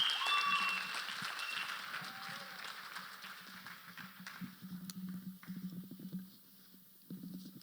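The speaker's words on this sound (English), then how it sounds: "A round of applause for all my panelists once again." Audience applause for a panel of pastors at a youth summit, clapping loudest at the start and then thinning to scattered claps, with someone speaking over it near the microphone.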